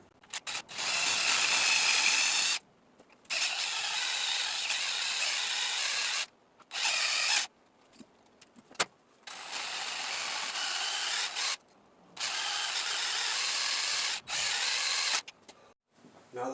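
A power drill whines in long steady runs while backing stripped screws out of a Honda 450 oil pan, with short pauses and small metallic clicks between bursts.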